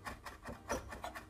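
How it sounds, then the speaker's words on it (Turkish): A knife finely chops parsley on a wooden board, with quick, regular scraping taps repeating about every quarter second, close but quiet. "Hemen onu da ince ince doğruyoruz."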